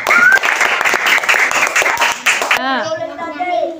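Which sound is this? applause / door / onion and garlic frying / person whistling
applause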